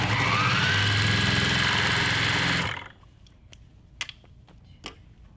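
A sewing machine runs steadily, chain piecing quilt fabric for a wall hanging. The close, even whirring stops abruptly partway through, followed by a few faint clicks and taps in near silence.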